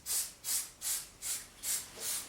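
A spray can lays a light dust coat of lacquer over a painted surface in six short, even bursts of hiss, close and steady in rhythm, with no voices.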